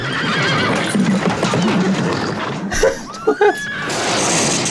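A horse neighs loudly in the 1981 film Time Bandits, a long shrill whinny with a falling pitch, following a stretch of voices and a brief crash.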